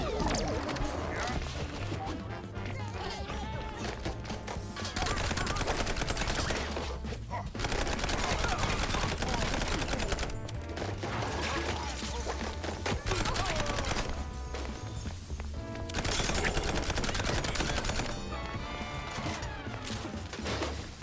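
Gunfire in the video game Mouse P.I. for Hire: loud, dense volleys of rapid shots that roll on almost without pause, with brief lulls between bursts.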